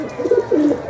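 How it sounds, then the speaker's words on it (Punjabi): Pigeons coo close by, two short throaty rolling coos in quick succession, loud and clear with no voices. "ਇਹ ਸਾਡੇ ਕਬੂਤਰ ਹੈਗੇ ਨੇ ਲੱਖ ਸੁੰਦਰੇ ਕਬੂਤਰ।"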